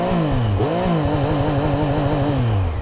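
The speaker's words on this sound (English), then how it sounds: "The Street Triple has now got a soft limiter." Triumph Street Triple RS motorcycle from 2023 revving hard and bouncing off its soft rev limiter, the engine note rising then stuttering in rapid repeated pulses, loud and close with no talk.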